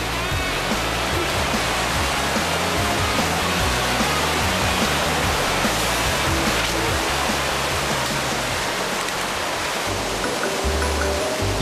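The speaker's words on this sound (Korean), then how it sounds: "세찬 물소리가 정말 시원한데요." A forceful jungle waterfall in Cambodia, where elephants come to bathe, pours down in a loud, unbroken roar of rushing and splashing water that stays dense and steady throughout.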